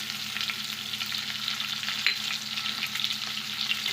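Fish curry of live stinging catfish (shingi) with papaya and potato simmers and sizzles in a pan after salt is added, a steady bubbling hiss with faint scraping stirs, close and continuous, no talk.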